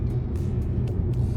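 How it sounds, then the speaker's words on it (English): Steady low tire roar and road noise fill the cabin of a 2025 Volkswagen Jetta GLI with a manual gearbox, a constant broadband rumble with no voices. "the ever-present kind of tire roar in this car"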